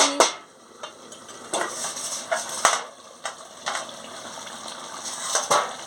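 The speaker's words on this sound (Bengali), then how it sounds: "এবার আমি ঢাকাটা খুলে নিচ্ছি" Metal clanks and knocks from a cooking pot as its lid is lifted off while pumpkin and potatoes boil for a prawn curry, several sharp clinks spread over a soft bubbling background.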